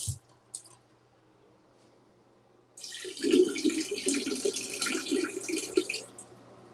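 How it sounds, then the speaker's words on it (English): A tap runs into a sink, starting after a few faint clicks and then a steady, close splashing gush that continues to the end without talk. "I'm running some water."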